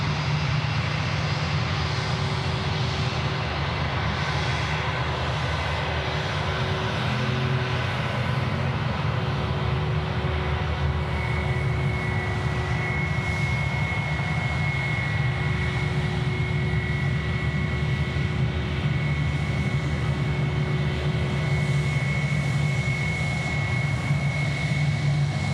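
Jetstar Airbus A320 taxiing close by on Taxiway Charlie at Sydney Airport, a loud, steady jet engine whine and roar with sustained tonal hum, continuous and unbroken, no talk over it.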